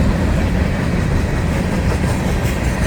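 A Florida East Coast Railway train rolls past near a bridge in St. Augustine, a loud, steady, close rumble of wheels and cars on the rails that holds unbroken throughout, with no voices.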